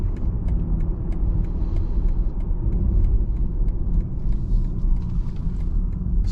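A 2024 BMW iX M60 electric car slows under strong braking while driving, a steady low road rumble and tyre noise filling the cabin with faint ticking above, no talk.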